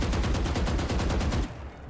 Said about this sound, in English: If you strafe while you shoot, look at where my bullets go.